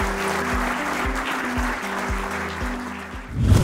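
Clapping from an award ceremony audience runs continuously over a steady, pounding musical beat, the applause even and full until a brief swell of noise at the very end.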